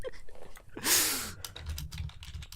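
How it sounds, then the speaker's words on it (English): Typing on a computer keyboard, a brief run of soft clicking keystrokes amid low background noise, with one louder burst of noise partway through. "What the fuck are you typing?"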